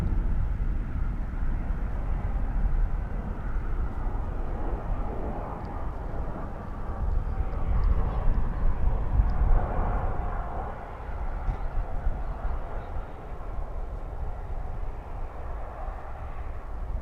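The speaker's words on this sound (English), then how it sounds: "Here, coming through the sky, is Delta Flight 1041 from Los Angeles." Delta A320 airliner from Los Angeles passing over DFW airport, a steady, distant broadband roar that swells slightly midway and fades back, with no talking.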